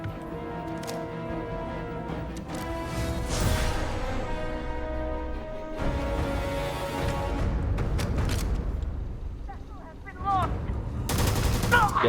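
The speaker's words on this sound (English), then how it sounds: "Now you're firing at a wall." A companion shooting in the Starfield space video game, bursts of rapid automatic gunfire against a wall amid music and game effects, with someone talking at times.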